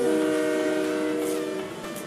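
A train horn in the Fortnite video game sounds loud and steady for nearly two seconds, its sustained tones fading slightly at the end, with no one talking over it.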